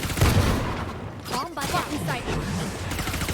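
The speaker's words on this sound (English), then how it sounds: "Firing more shots through that smoke." Gunfire from a small SMG in a Valorant esports match, shots fired through smoke, sounding as dense bursts under continuous commentator talk.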